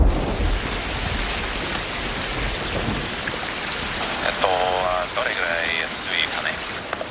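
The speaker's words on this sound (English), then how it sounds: "until it rains" Rain falls steadily on the ash-covered slopes of the Sakurajima volcano, a constant hiss that runs throughout, with faint voices surfacing briefly in the latter half.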